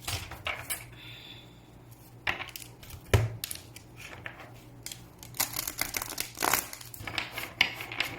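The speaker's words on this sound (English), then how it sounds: "As I go ahead and shuffle the cards and lay the cards" Oracle cards being shuffled and laid out by hand, giving soft rustling, crisp flicks and light taps in an uneven rhythm, close and fairly quiet with no voices.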